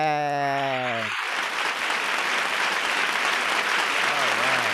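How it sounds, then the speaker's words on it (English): Applause from an audience at an all-star virtual event breaks in after a sung tone, then continues as steady, full clapping, with a voice briefly rising near the end. "you got the same big round of applause"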